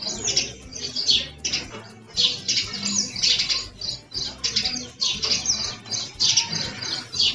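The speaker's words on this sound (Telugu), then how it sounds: "ఇక్కడ పక్షుల కిలకిల రాగాల శబ్దాలు చూసారా" Small birds chirp and tweet in quick repeated bursts throughout a morning outdoor scene, fairly close and lively, with no one talking.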